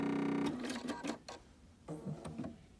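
A Bernina sewing machine with a Jumbo Bobbin runs when its foot pedal is pressed. A short electronic tone comes first, then several close, loud bursts of rapid stitching with brief pauses between them.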